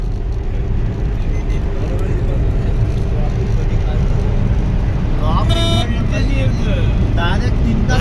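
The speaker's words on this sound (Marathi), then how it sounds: "इकोचा ड्रायव्हर फुल झोमान एकशे वीस ची स्पीडला गाडी" An Eeco van's engine and road noise roar steadily at about 120 km/h on a highway, with a short horn toot partway through, while people talk over it.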